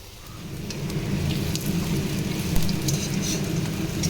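Gram-flour batter fritters (bora) frying in oil, giving a dense, steady crackle and hiss that fills the whole stretch at close range, with no voices.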